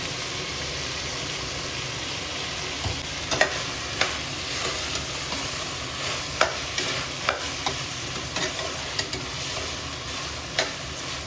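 Ground masala paste fries in a pan for vegetable pulao, a continuous sizzle punctuated by a series of sharp scraping stirs at uneven intervals, close and fairly quiet, with no talking.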